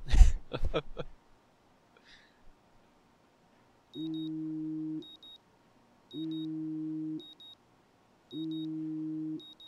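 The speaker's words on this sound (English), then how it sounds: "This is probably an alarm." A loud burst of noise at the start, then an electronic alarm in the video game Life is Strange sounds three times: paired synthetic beeping tones, each lasting about a second, evenly spaced.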